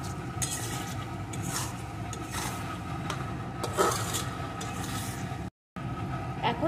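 Chilli chicken coated in tomato sauce is stir-fried in a pan: soft, repeated scraping and stirring strokes over a steady low sizzle, close and moderately quiet, with a brief dropout near the end.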